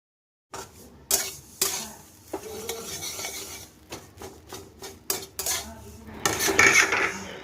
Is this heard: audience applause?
no